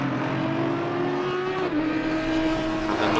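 Race cars in Assetto Corsa Competizione at Silverstone, a dense, loud engine drone with several cars at once, pitch sliding and shifting steadily as they push through the final turns, no voices.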